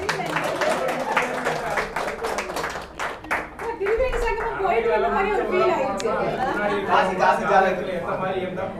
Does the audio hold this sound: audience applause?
yes